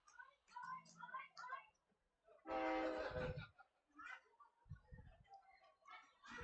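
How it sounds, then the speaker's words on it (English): A railroad train passing near a ballpark gives a loud horn blast lasting about a second, rising over steady background talk, with low rumble underneath and more voices continuing around it. "Did you hear the railroad train?"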